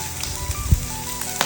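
Food sizzles and crackles in a hot pan, with a soft stirring scrape and a brief louder pop midway.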